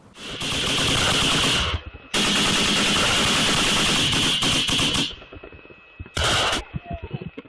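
Machine guns of a mobile fire group firing at Shahed drones, loud sustained bursts of rapid automatic fire separated by short pauses, ending with a final brief burst and scattered crackling echoes.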